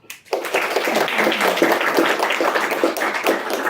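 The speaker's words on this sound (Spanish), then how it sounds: "un aplauso fuerte" An audience at an academic course session breaks into loud applause, a dense burst of clapping that rises quickly and stays strong and steady for several seconds.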